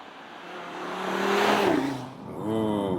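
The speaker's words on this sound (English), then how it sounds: "Audi RS-Q3, that 5-cylinder." Audi RS Q3 with its five-cylinder engine accelerating, a rising, swelling engine note that peaks and briefly dips before climbing again as the car pulls away.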